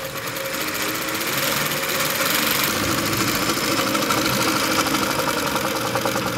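An AtlasUSA AT2284 sewing machine runs steadily while stitching on a three-step zig-zag setting with the dial turned to 0, its motor giving a continuous mechanical hum and rapid needle chatter throughout.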